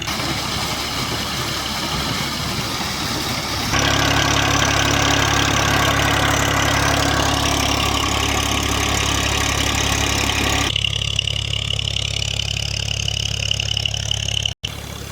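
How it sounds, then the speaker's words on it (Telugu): Excavators and vehicles running their engines on a construction site, a steady rumbling idle that grows louder and heavier partway through, continuous and close, with a brief dropout near the end. "ఇప్పటికే వాహనాలు మన ప్రొక్లైన్లు ఇవైతే తిరుగుతాయి"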